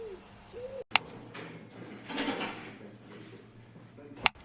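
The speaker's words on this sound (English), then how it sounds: "there are so many pigeons, you can just hear them" Soft, low cooing calls from birds drift in from a distance, with sharp clicks and a brief rustling swell in between.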